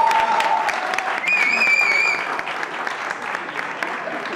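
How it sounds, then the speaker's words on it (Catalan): Audience applause for Mercè Falguera of the CUP at a café politics event, steady crowd clapping with a few whistles and voices on top, lasting a few seconds. "Un aplaudiment per la Mercè Falguera."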